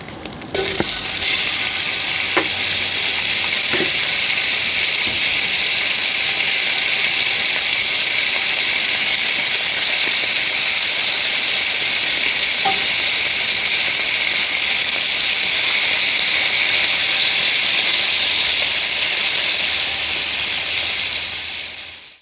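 Asparagus and steak bites sizzle in a pan at a campsite, a loud, steady hiss of frying with a few faint clicks, continuing unbroken before fading at the end.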